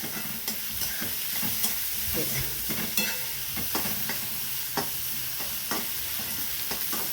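Chopped onion and carrot frying in a little oil in a pan for poha, a steady close sizzle broken by repeated scraping knocks of a stirring spoon.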